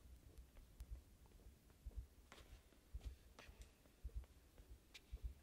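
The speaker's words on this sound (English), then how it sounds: "I hear a heartbeat." A low, rhythmic heartbeat thumps in the puzzle platformer INSIDE, pulsing steadily about once per second under faint ambient game sounds, quiet and close.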